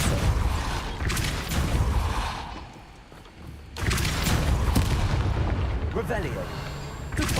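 Heavy booming impact from a spell cast in Hogwarts Legacy, a dense rumbling blast that fades briefly before a second loud burst of crashing noise follows.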